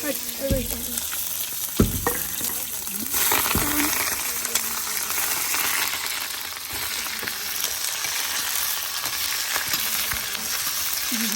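Half a kilo of pigeon meat frying in a large cooking pot, a steady close sizzle and crackle with a few sharp clanks of utensils early on and the stirring continuing throughout.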